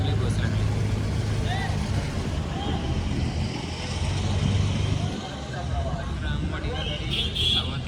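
A red state transport bus pulls in at the Ramwadi stop on a trip from Panvel toward Shrivardhan, its engine rumbling loudly and dipping as it slows, with brief higher whines and a voice speaking over it.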